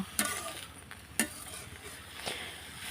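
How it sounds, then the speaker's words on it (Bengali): A spatula stirs a taro leaf mix with turmeric and chopped green chillies in a village-style pan, with three spaced scraping taps over a faint, low frying sizzle. "দুই থেকে তিন মিনিট এভাবে আমি ভালোভাবে নেড়ে নেব"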